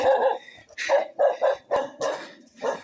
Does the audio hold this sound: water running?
no